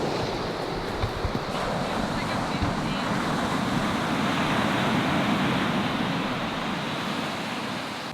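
Ocean surf makes a steady, broad roar that continues without a break, mixed with wind buffeting the microphone.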